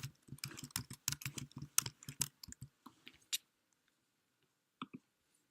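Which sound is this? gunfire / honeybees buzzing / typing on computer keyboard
typing on computer keyboard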